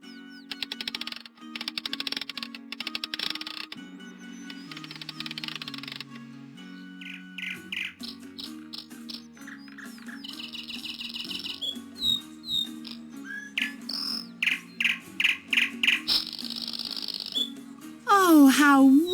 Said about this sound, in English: The Emperor turns the key and the mechanical bird begins to sing.